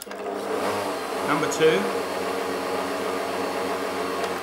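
A Breville Ikon 550 Hemisphere blender runs at chop speed with a steady, moderate motor whir, while a voice speaks briefly over it.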